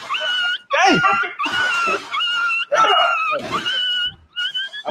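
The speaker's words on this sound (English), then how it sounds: "Something wrong with that damn dog." A dog whimpers and yelps in a run of high, wavering cries with short gaps, close and loud, while someone shouts over it.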